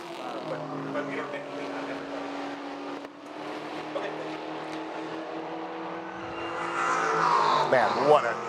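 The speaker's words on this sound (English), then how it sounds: "Listen to that supercharger." A supercharged race car engine roars past at Lime Rock Park during a GRIDLIFE Circuit Legends race, with a loud sustained engine note that swells toward the end, under continuous commentary.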